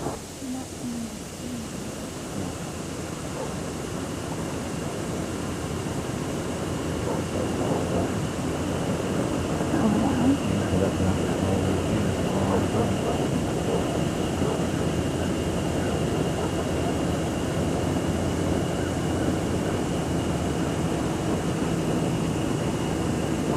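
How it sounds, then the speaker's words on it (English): A 1992 airliner coming in to land, heard from the cabin as a steady, full engine roar that grows slightly louder partway through, with faint voices underneath. "We're going to be landing now for a little bit."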